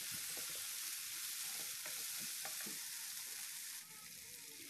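Steady sizzling of galangal, bay leaves and lime leaves frying in a hot pan for ayam betutu, with intermittent scraping taps of a utensil stirring, close up and without talk.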